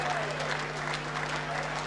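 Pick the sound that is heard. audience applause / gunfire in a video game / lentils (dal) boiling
audience applause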